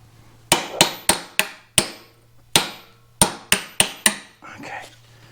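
Close, sharp hammer blows tap a seal into a wheel hub on a 1988 Dodge D100 pickup during a wheel bearing job, about eleven metallic strikes in an uneven rhythm with a faint hum underneath.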